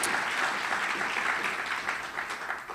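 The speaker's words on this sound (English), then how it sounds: "So a big hand of applause, thanks to all of our supporters." Audience applause at a museum event on Mesoamerican art, a continuous, even wash of many hands clapping at moderate level for the whole stretch.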